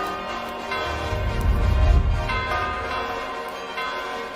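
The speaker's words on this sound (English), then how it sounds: "Oh, they're bells." Bells ring out in a scene from the animated series RWBY, swelling to a loud peak in the middle and then settling into a steady sustained tone over a low rumble.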